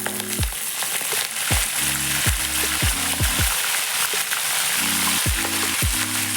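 Ingredients for dum biryani fry in a pan until browning, a continuous loud sizzle over a low droning hum, with several sharp scraping stirs spaced through the clip.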